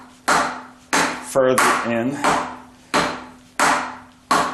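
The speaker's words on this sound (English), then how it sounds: "I've been hitting it with a dead blow hammer" Dead blow hammer striking a harmonic balancer on a 1976 Corvette restomod, six or seven sharp, evenly spaced thuds about every 0.6 seconds, with a brief spoken phrase between two blows.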